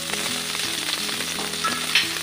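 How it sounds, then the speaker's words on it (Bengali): Nigella seeds (kalo jeere) crackle and sizzle in hot oil over lightly fried rohu fish, tempering for rui posto; a close, steady frying hiss with small pops and a faint stir. "এবার আমি একটু কালো জিরে ফোড়ন দেব।"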